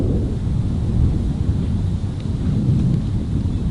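Thunder from a storm rumbles over a golf course, a continuous low, heavy roar filling the open air without any talking.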